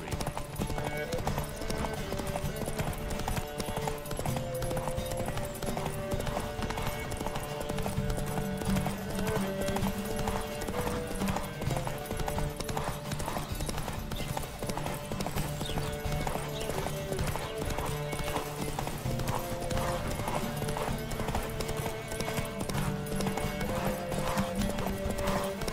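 Horses' hooves clip-clop steadily in The Witcher 3: Wild Hunt as riders set off at a gallop. The hoofbeats run continuously under a dense layer of game music and ambience, with a speaking voice over the top and an occasional neigh.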